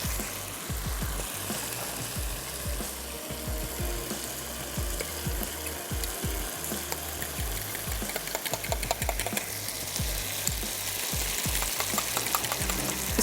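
Yogurt being whisked in a bowl while a pan of cooked tomatoes sizzles nearby: steady, rhythmic low beating strokes, close up, over a constant frying hiss.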